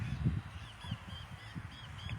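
Seagulls at sunset giving a series of short honking, cawing calls, several separate squawks spaced irregularly at moderate distance over quiet background.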